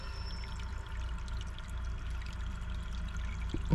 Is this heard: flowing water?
yes